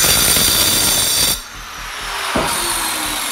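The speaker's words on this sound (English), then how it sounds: "It's probably twice as loud as a regular cutoff will." A Masterforce diamond cut-off wheel cutting, a loud high-pitched grinding whine close by that cuts off abruptly, leaving a fainter spinning-down hum and a brief scrape.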